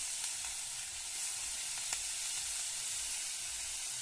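Moringa flowers fry in a tempering of onion and green chili, giving a soft, steady sizzle and hiss with a few faint crackles and no voices.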